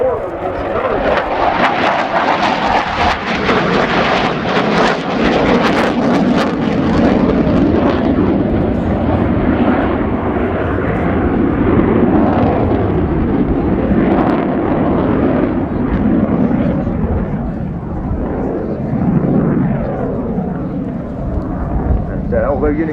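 Romanian Air Force MiG-21 LanceR C jet in a flying display at RIAT 2019, a loud, continuous roaring jet engine that swells and fades as it passes, with voices talking over it.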